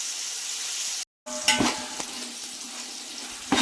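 Vegetables frying in a pan for vegetable pulao, a steady close hiss of sizzling oil broken by a brief silence, then stirring clatter and scrapes over the continuing sizzle.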